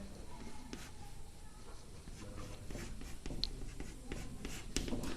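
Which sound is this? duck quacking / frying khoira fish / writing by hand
writing by hand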